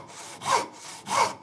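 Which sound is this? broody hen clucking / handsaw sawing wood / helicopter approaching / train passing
handsaw sawing wood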